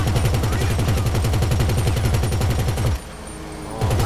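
Pegassi Weaponized Ignus minigun in GTA Online fires a loud, continuous rapid stream of shots for about three seconds, stops briefly, then starts again.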